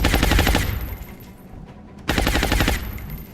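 Suppressive automatic gunfire in the video game XCOM Long War: two sustained rapid bursts of loud, close rattling shots separated by a brief lull, with no talking.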